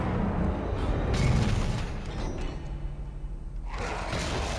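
In the Dead Space video game, a battery explodes with a deep rumbling boom and heavy low-end roar that swells, then thins into a grinding, hissing tail before another burst of noise.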